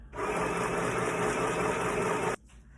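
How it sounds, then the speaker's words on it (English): An industrial sewing machine runs a continuous running stitch in one steady, loud whirring burst of about two seconds. It then stops abruptly, leaving quiet room tone. "I'm going to sew that without back stitch"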